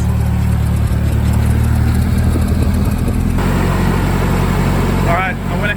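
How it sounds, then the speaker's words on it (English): A Nissan S13 engine idles steadily up close with power steering fluid freshly added, a continuous low rumble with a faint pump whine, and a brief voice near the end. "I went ahead and put some fluid in the power steering pump so you can actually hear the motor now."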